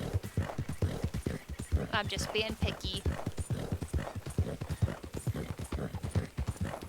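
A horse trots in Red Dead Redemption 2, its hooves clip-clopping in a quick, steady, unbroken rhythm for several seconds, close and clear beneath a person talking casually throughout.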